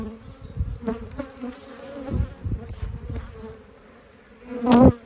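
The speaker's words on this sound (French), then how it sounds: "une ruche où les abeilles se développent bien" Honeybees buzz around a hive, a busy, fluctuating drone with individual bees passing close, one loud buzz swelling near the end.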